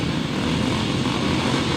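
Grasstrack racing motorcycles, including a 250 PSA and a 500 Jawa, roar steadily at the start line with engines held at high revs, a dense continuous loud drone without talk.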